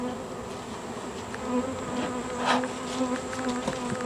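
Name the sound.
honey bees buzzing around hive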